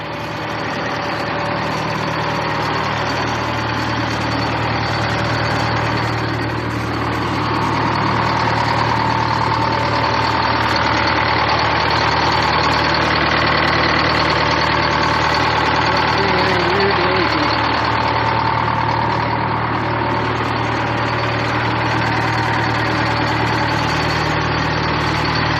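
A Terex TS-14B scraper's diesel engines idle with a heavy, steady low rumble and a vibrating drone, loud and close, holding a constant note throughout with no voices.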